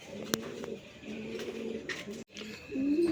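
A pair of sobji racer pigeons, a male and a female, coo in soft repeated throaty rolls close by, with a brief pause before the cooing swells again.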